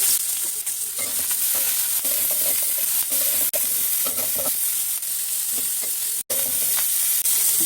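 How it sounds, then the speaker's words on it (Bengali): Onions and green chillies fry in oil with bay leaf and whole cumin in a wok, giving a continuous loud sizzle broken by repeated scraping stirs and clicks from a spoon, with no voices. "পেঁয়াজ মরিচ ভাজা হয়ে গেছে"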